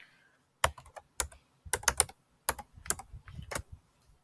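Typing of a username and password on a computer keyboard: short irregular bursts of clacking keystrokes, close and clear, with pauses between groups and no talking.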